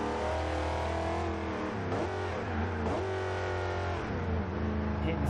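A 2009 Chevrolet Corvette engine in a racing video game revs and drones loudly and continuously, its pitch rising and falling as it accelerates, with a steady exhaust roar throughout.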